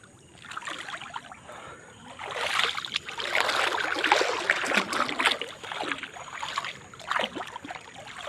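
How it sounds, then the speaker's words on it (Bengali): Floodwater slaps and sloshes through a flooded village at night, a close, rough wash of water that swells to steady splashing and ebbs again, with no voices over it. "শুধু চারিদিকে থই থই পানি"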